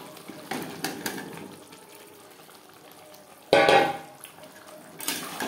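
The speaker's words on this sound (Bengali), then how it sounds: "আলু বেশ ভালো করে মিক্সড করে দেব।" Cut potato pieces are stirred into a cooked spice paste in a pot: soft scraping and clinking, then one loud, close scrape about midway, with quieter stirring before and after.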